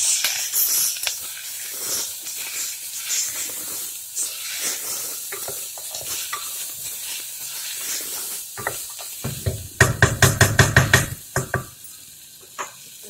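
Chopped tomatoes frying with browned onions in a pan for cauliflower masala gravy, giving a steady hiss and sizzle with scraping stir noises, then a burst of sharp clattering taps near the end.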